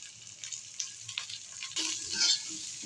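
Potatoes sautéing with spices such as turmeric, coriander powder and green chilli in a pan for a fish curry, a soft steady sizzle with light stirring that swells louder in the second half.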